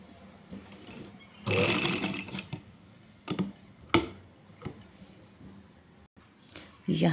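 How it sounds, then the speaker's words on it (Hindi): A sewing machine stitches piping into fabric in short whirring bursts, with scattered clicks and handling taps between the runs of stitching, all fairly close and quiet. "यहाँ पर जी हमने सिलाई लगा ली है"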